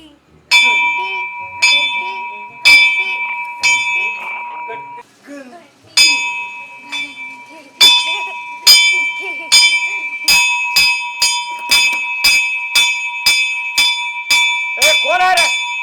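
A temple bell rung repeatedly by hand, loud and close, with bright metallic clangs that start irregularly and then settle into a quicker steady rhythm, each strike leaving a ringing tone, with faint voices in the background.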